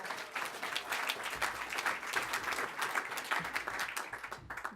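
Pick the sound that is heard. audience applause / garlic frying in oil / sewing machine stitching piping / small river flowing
audience applause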